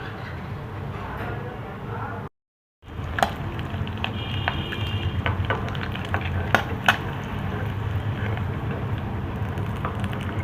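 Eggs frying one by one in oil for egg chilli, a continuous close sizzle with scattered pops and spatula clicks, broken by a short silent gap early on; a voice talks in the background.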